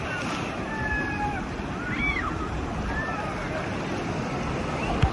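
Wind and breaking surf at a beach, a constant broadband rush with gusty microphone buffeting and a few faint high whistling tones over it.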